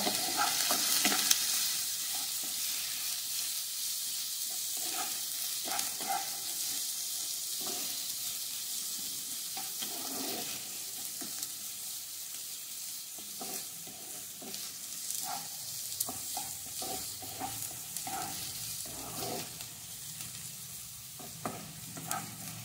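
Chopped onion frying in a pan for palak paneer, a soft continuous sizzle with scattered scraping and stirring taps throughout, close and fairly quiet, with no talking.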